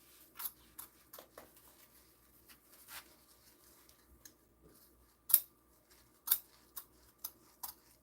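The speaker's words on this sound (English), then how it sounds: "I like to keep my scissors when I'm doing this as closed as possible so I don't pick up anything else as I'm sliding it along" Sewing scissors slide along fabric as they cut during a sewalong. Quiet, scattered soft rasps and light snips give way to a few sharper clicks near the end, with no talking.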